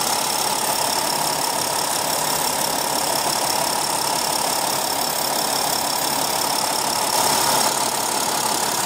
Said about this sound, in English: this turbo diesel is a very refined and powerful powertrain